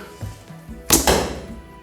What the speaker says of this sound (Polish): Zakładamy, odwracamy się, strzelamy.